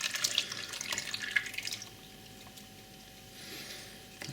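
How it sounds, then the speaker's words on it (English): Garlic- and thyme-infused cream poured over sliced potatoes and an onion mixture, a steady liquid splash that eases into a softer, quieter trickle, close and alone. "all I'm going to do now with the cream is just pour over the top of my potatoes"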